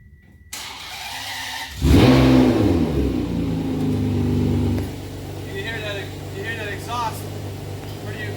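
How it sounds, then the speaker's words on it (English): A Ferrari 599 GTB V12 with a modified exhaust, fully warmed up, starts with a loud bark and then revs up hard and close. Its deep, throaty exhaust note rises in pitch and falls back to a steady idle, with brief talk over the idle. "So I'm going to crank it up and let you guys hear it and rev it up a little bit"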